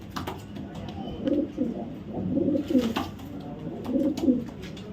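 A pair of racing pigeons coo close by in repeated low, throaty phrases that rise and fall over faint background noise.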